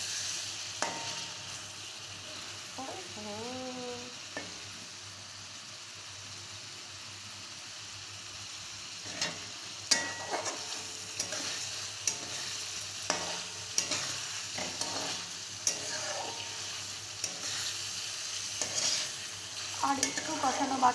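Onions and eggs sautéing in oil for a spicy egg kasha, giving a continuous low sizzle with repeated sharp clicks and scrapes of stirring, while a voice speaks briefly near the start.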